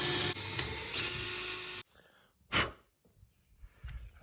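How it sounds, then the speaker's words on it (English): A high-pitched power drill boring holes into wood on a sailboat's hard dodger whirs steadily for a couple of seconds, then stops, followed by a short burst and faint handling noises. "I'm gonna drill the holes for it now into the wood"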